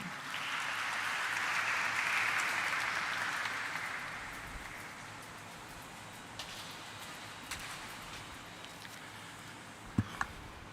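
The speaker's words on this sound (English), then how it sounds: "Can we have a huge round of applause for him?" Applause from an audience at the stock listing ceremony of Akums Drugs and Pharmaceuticals Limited, a dense burst of clapping that swells over the first few seconds, then fades into quieter room noise with a few scattered knocks near the end.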